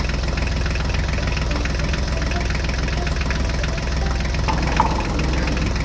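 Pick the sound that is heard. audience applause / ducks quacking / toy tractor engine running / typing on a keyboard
toy tractor engine running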